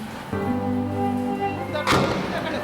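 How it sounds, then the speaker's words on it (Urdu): A second explosion blast in news footage, a sudden loud thud rising above a steady hum and the murmur of a crowd, with a sharp crack near the end. "یہ دوسرا دھماکہ ہو گیا ناظرین"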